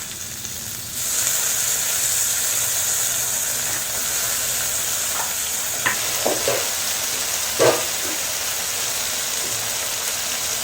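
Green chili and finely chopped tomato hit a hot pan for no-onion, no-garlic palak paneer: the hiss swells sharply after a second into a steady close sizzle, broken by a few stirring clacks.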